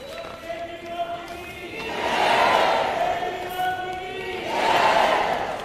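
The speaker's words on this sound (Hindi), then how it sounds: "एक बार जोरदार तालियां" A crowd of pilgrims at a Delhi government pilgrimage-scheme ceremony cheers loudly. Voices rise in two big swelling shouts with a steady crowd roar underneath.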